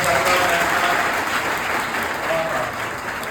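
Loud applause from a crowd of children welcoming everyone at a gathering, steady dense clapping throughout with no break.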